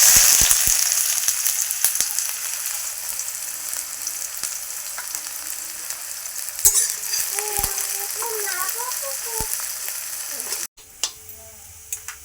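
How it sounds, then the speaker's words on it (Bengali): Onions frying in oil on a lit stove for chicken biryani, a steady broadband sizzle filling the clip with a few sharp ticks and clatters, dropping off abruptly near the end to quieter crackle. "প্রথমে পেঁয়াজের বেরেস্তাগুলো করে নেব। পেঁয়াজগুলো দিয়ে দেবো।"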